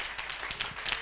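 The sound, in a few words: audience applause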